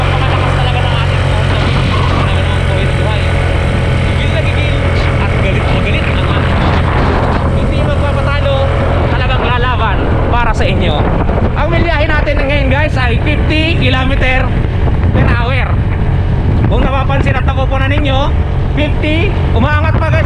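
2024 Honda Beat Premium scooter engine straining uphill, a loud continuous drone with rising pitch as it climbs, wind noise over it and someone talking throughout.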